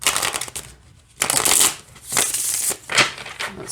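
Close, crisp tarot card shuffling in three or four short riffling bursts separated by brief pauses.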